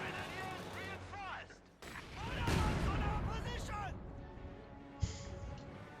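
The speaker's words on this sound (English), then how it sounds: "Pushing for the mortar fire" Mortar and artillery fire booms and crashes across a Company of Heroes 2 battlefield, with scattered impacts and a sharp blast near the end, all under a commentator's continuous talk.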